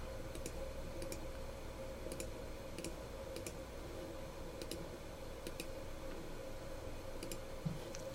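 Key presses on a calculator tick faintly in irregular bursts against a steady low background hum, with no talking.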